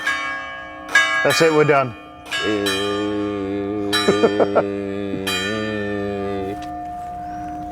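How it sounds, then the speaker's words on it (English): Church bells ring loudly and close, in several overlapping bursts of sustained metallic tones with long ringing decays, with brief speech during the ringing. "you just need to listen to the bells"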